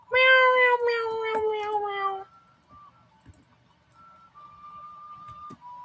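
Cat meowing in the video game Triangle Strategy: a loud, drawn-out tonal meow for about two seconds, followed by quieter sustained beeping game tones.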